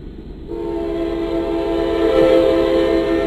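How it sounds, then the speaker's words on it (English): A freight manifest train led by an NS locomotive passes westbound on a main line, its horn sounding as a loud sustained chord over the rolling rumble of the cars, near and building slightly. "This is highballing westbound on the main line at R200."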